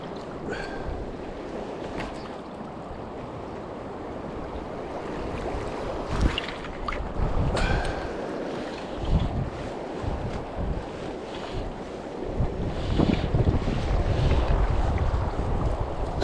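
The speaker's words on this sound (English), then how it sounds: "Still that horrible wind." Strong downstream wind buffets across a river during spring salmon fishing in the Borders, a loud gusty rush with microphone rumble and swells of water noise throughout.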